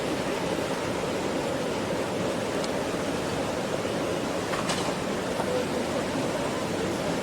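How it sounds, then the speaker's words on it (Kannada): Kaveri river water rushing through a rocky gorge toward Mettur dam near Mekedatu, a steady broadband roar of flowing water heard continuously at a moderate distance. "ನೋಡಿ, ಈಗ ಈ ಮಾರ್ಗವಾಗಿ ಕಾವೇರಿ ನದಿ ತಮಿಳುನಾಡಿಗೆ ಮೆಟ್ಟೂರು ಡ್ಯಾಮ್ಗೆ ಸೇರ್ತಾ ಇದೆ"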